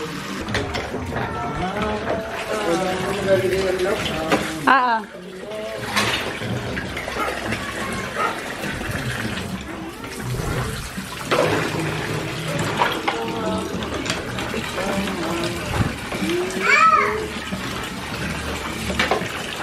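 Water runs and splashes steadily as something is washed, with people talking over it throughout.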